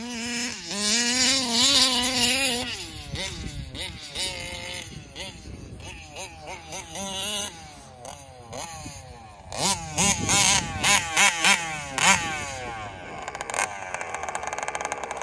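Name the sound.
Taylor RC 40GT radio-controlled car engine tearing up sod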